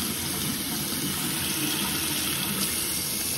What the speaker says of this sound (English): I'm gonna get some hot water, or as hot as I can get, out of the faucet.